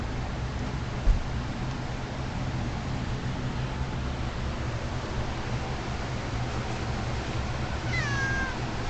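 A pet cat meows once near the end, a short rising-then-falling cry over a steady hiss of background noise, with a faint knock earlier.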